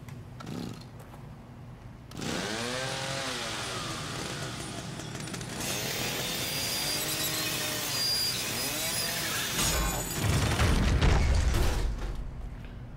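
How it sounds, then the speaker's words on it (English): A chainsaw revs in The Evil Within horror game, a continuous loud mechanical whine with rising and falling pitch sweeps, joined near the end by a heavy low rumble. "came out of nowhere with the chainsaw"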